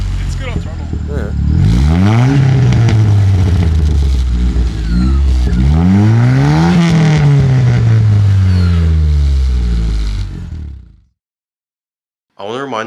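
A turbocharged car engine revs loudly on throttle, rising and falling in two long sweeping pulls over a heavy rumble, then cuts off abruptly into silence before a brief return.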